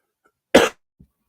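A single sharp sneeze bursts out close by, followed by a tiny exhale; otherwise quiet.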